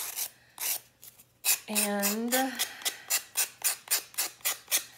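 A small handheld sanding tool works into corners of a craft piece, giving a rapid run of rhythmic, close rasping strokes. Brief speech and a short squeaky tone come before it.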